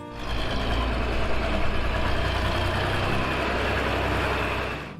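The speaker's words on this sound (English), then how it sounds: "The six-cylinder diesel engine roars in the autumn mist." A John Deere 4020 tractor's six-cylinder diesel engine runs at a steady, rumbling idle in autumn mist, fading in and out, with no voices.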